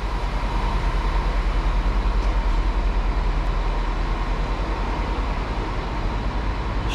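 A diesel locomotive rolls into Bucharest's Gara de Nord station, a dense steady rumble of engine and rail noise heard up close, continuous and loud for several seconds with no talking.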